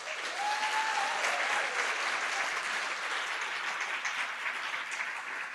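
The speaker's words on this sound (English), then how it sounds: "Give them a full round of applause." A full audience applauds book award winners and nominees at a gala, steady dense clapping filling the hall with no talk over it.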